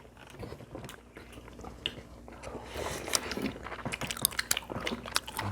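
Wheat-flour tteokbokki being bitten and chewed close to the mic at a Korean snack-bar mukbang, with soft repeated biting and mastication sounds growing busier toward the end, no talking.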